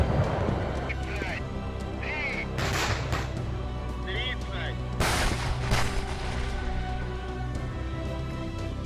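Repeated gunfire at a shooting range where army recruits train, booming shots scattered among steady background noise, with faint bird-like honks and distant voices.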